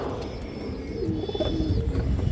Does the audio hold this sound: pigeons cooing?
yes